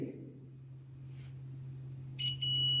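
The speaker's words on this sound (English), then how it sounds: "If there is a continuity, then it will beep like this" A steady electrical hum sits underneath, then a single high, piercing multimeter continuity beep starts abruptly and holds to the end.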